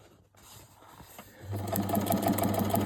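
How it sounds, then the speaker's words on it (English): A sewing machine stitching a 1 cm seam on a child's headband starts up partway through and runs in a steady close whirring rhythm after some quiet handling sounds, no one talking. "So I'm sewing 1 centimeter seam allowance, which is approximately the width of my foot"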